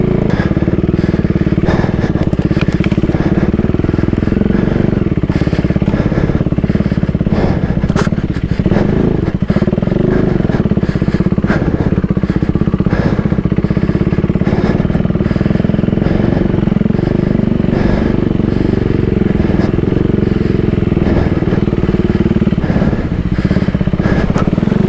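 Husqvarna 401 adventure motorcycle ridden along a dirt trail, its single-cylinder engine droning steadily and loud throughout with small throttle changes, alongside clattering and scraping from the rough ground.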